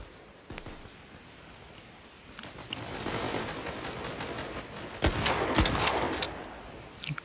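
Shotgun blasts in the mobile shooter Battle Prime, a few sharp reports at moderate volume, a cluster of shots near the end over low game ambience.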